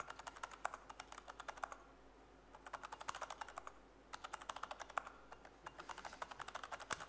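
Rapid keystrokes on a computer keyboard during a live software demo, bursts of quick clicking typing separated by short pauses, close and clear with no voices.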